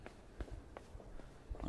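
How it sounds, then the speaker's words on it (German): Soft footsteps in the dark side-scrolling game Inside, a handful of quiet, irregular steps spread across a hushed, low ambient background. "Ich höre Schritte."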